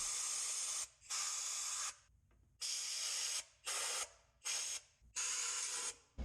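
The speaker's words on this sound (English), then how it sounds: "I opened the tip more and started spraying the underside areas that were farther away" Fluid Film undercoating sprays in seven loud aerosol bursts of about a second each onto the frame and underbody of a truck. Short quiet gaps separate the bursts, with no voices.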